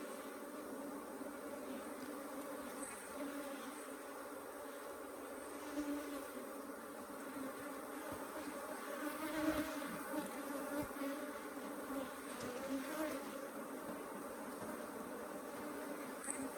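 Africanized hybrid honey bees in a strong, crowded three-box hive in southern Arizona give off a steady, dense, quiet buzz with no break while the hive stands open.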